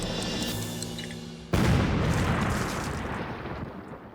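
A bomb explodes in a sudden loud blast that cuts sharply into the preceding sound, followed by a long rumbling, hissing decay.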